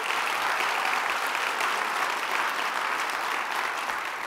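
A large audience claps steadily and loudly for an honors jazz combo from Chai Arts, a dense, even wash of applause that holds without pause.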